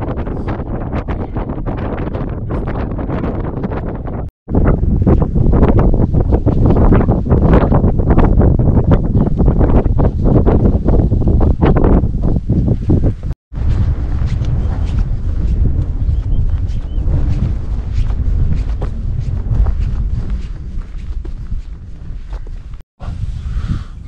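Strong wind buffets the microphone during a stormy mountain hike in Natfjelldalen, Scandinavia, a loud continuous roar with gusts that swell and ease, broken by a few brief cuts.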